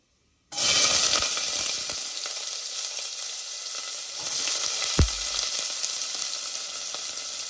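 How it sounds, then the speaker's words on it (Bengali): Onions dropped into hot oil with cloves for a country chicken curry, bursting into a loud, continuous sizzle, with one sharp metallic clink of a utensil partway through. "এবার আমি পেঁয়াজ অ্যাড করে দেবো।"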